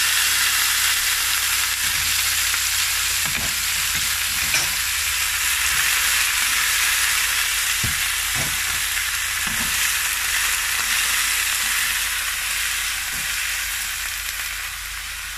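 Sweet potato leaves stir-fried in a wok over high heat give a loud, continuous sizzle, with scattered scrapes and clanks of stirring throughout and no talking.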